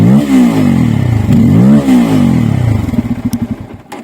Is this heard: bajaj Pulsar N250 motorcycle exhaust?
yes